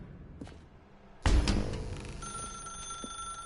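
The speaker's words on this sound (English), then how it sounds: "Now pick up the phone" A telephone rings in the narrative game The Stanley Parable, with a sharp onset after a faint lead-in and a sustained metallic ringing tone that lingers over a dark room ambience, with no talk.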